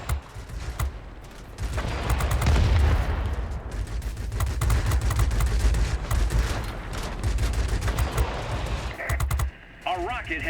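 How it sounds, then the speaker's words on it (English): Rapid gunfire and rocket impacts from a Yak-19 fighter in the World of Warplanes combat game, a dense loud barrage of bursts and explosions running for several seconds before a brief break. "A rocket has reached the target."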